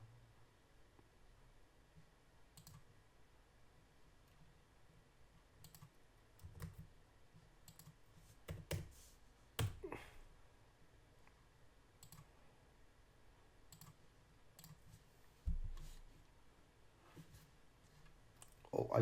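Quiet computer keyboard typing, with sparse, irregular clicks and short bursts of keystrokes against faint background hiss.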